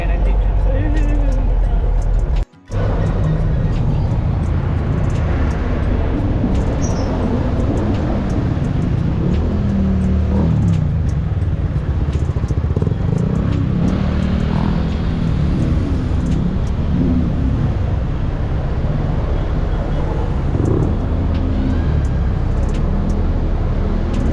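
Ride aboard a crowded jeepney in Palawan, with a steady engine rumble and road noise running throughout, joined by a brief sharp knock early on and people talking over it.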